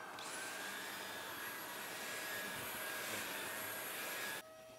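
Dyson cordless vacuum cleaning a vehicle interior at maximum power, a steady high-pitched whine and rushing airflow held loud and close for several seconds before cutting down to a lower level at the end.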